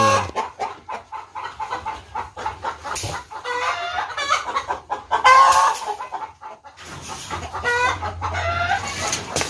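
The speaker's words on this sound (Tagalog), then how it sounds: "ganyan kaingay yung ating RIR pag mangitlog na sila" Rhode Island Red hens clucking loudly and insistently after laying eggs, with repeated close cackling bursts and a rooster-like call amid farmyard noise.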